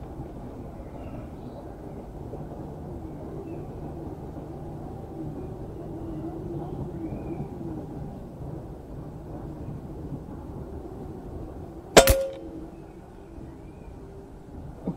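A single shot from a Stoeger X-Power air rifle, one sharp crack standing out against a low, steady outdoor rumble, followed by quiet background noise.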